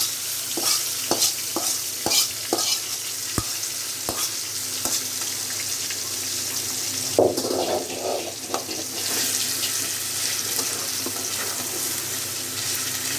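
Tender leafy greens are stirred and fried in a pan for a Bengali sak bhaji, with a steady sizzle, sharp scraping clicks of the spatula, and a louder stirring burst midway, close up with no talk.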